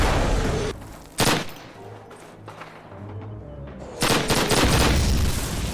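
PPSh submachine gun fire in Call of Duty 1 on Veteran difficulty, with dense bursts of rapid gunfire and booming shots from a battle, loud at the start and again near the end, quieter rattle between.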